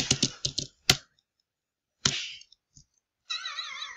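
Computer keyboard keys tapped while playing an arcade game on an emulator: quick bursts of clicks, a pause, then a few more presses, followed by electronic game tones.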